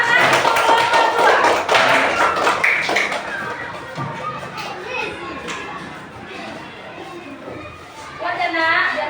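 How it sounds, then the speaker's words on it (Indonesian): Classroom children applauding together in a lively burst of clapping, loudest at the start then easing, mixed with kids' chatter and voices around the room. "Ayo, berikan tepuk tangan untuk kelompok dua."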